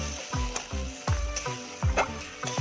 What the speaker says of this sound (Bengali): এবার ভালোভাবে কষিয়ে নেব মশলাটা।